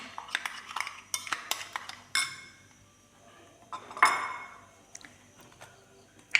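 Metal utensil clinking and scraping against a dish while mixing sliced brinjal with salt, a run of sharp close clicks and taps in bursts with short pauses, no talking.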